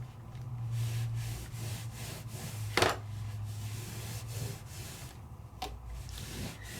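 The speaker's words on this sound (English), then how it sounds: "let me clean it, which is just with a baby wipe" A baby wipe rubs across a plastic 3D embossing folder in soft, close scraping strokes, with one sharper crinkle partway through and a low steady hum beneath.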